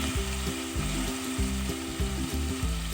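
Extra oil added to a homemade biryani pot, a loud continuous sizzle over a low rhythmic pulsing hum.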